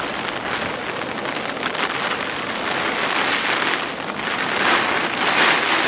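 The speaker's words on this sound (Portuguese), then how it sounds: "A chuva está a estragar tudo." Steady heavy rain falls on a surface outdoors during a sea bream fishing trip, a dense continuous hiss and patter, loud and close throughout with no voices.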